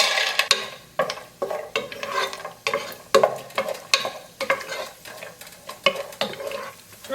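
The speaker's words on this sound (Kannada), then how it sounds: "ಇದಕ್ಕೆ ನಾನು ಸ್ವಲ್ಪ ಗೋಡಂಬಿ ಹಾಕಿ ಫ್ರೈ ಮಾಡಿ ತೆಗಿತಾ ಇದ್ದೇನೆ." Cashews frying in hot ghee, stirred steadily: a close, rhythmic run of scraping strokes of a spoon against the pan, repeating roughly every half second over a light crackling sizzle.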